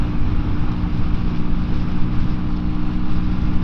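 A QJMotor SRV125 cruiser motorcycle rides in fifth gear into a direct headwind, its steady low engine drone thick with rumbling wind buffeting, loud and continuous throughout.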